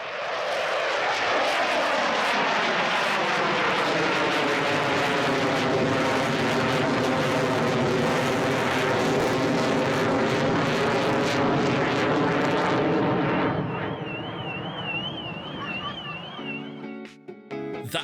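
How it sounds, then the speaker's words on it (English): An Avro Vulcan bomber takes off at an air show, its jet roar loud and sustained, sweeping and shifting in pitch before fading with a high whine near the end. "That was the sound of an Avro Vulcan taking off at an air show."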